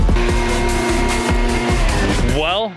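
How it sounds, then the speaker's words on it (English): Backpack leaf blower running outdoors by a backyard pond project: a continuous loud, rough engine drone with a steady broadband roar, persisting throughout before tapering off at the end. "that is the sound of the backpack blower being ran"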